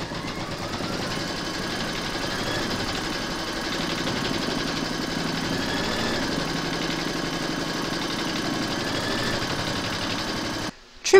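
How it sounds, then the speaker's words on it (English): Embroidery machine stitching a placement round on a large flamingo applique hooped with batting, a steady close mechanical whir running evenly for several seconds before cutting off at the end. "Pop your hoop into your machine and stitch round number two to secure it."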